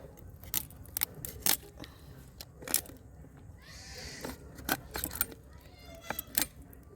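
Crabs cut and cleaned for cooking, with crisp snips and small cracking crunches in an uneven rhythm, close and fairly quiet, plus a brief rustle midway.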